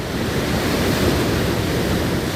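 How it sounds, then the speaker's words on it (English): Ocean surf rushing toward the shore as broken waves turn into a torrent of water, a steady, dense wash of noise with no pauses, loud and close throughout. "It is only a rushing torrent of water."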